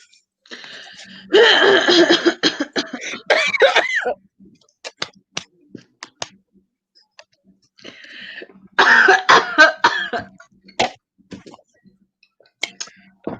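Two harsh coughing fits, close and loud, separated by a pause filled with small clicks and breaths.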